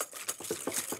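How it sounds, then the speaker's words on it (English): A whisk beats sugar into egg yolks in a bowl with quick rhythmic strokes, giving a faint, grainy scraping and pattering sound and no voices. "Just give it a really good mix until most of that sugar has dissolved in. So you can hear that it sounds grainy right now."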